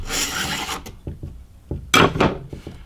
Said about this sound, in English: Now we can remove our recoil mechanism.